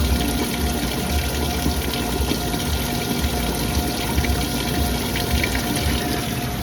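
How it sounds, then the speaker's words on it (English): A dishwashing machine's rinse pump drains water through a diverter valve, a continuous loud, close rush of pumped water and motor hum that stays steady throughout. "You can see it and hear it actually. Now it's draining."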